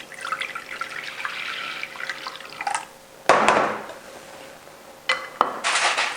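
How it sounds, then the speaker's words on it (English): Water trickles and splashes from a tap into a bowl for a Christmas pudding, with a few louder pours and drips in a kitchen setting, no voices. "we're just going to add a little water."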